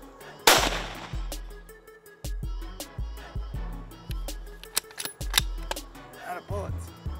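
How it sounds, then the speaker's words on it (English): Rifle shots fire at feral hogs outdoors, a rapid string of sharp cracks in uneven bursts, some close and loud, others softer, with voices talking between them. "There's more hogs here. Keep shooting."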